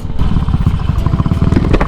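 Motorcycle engine running beside a wide river at a camping spot, a steady low rumble with rapid irregular chugging pulses, close and fairly loud throughout.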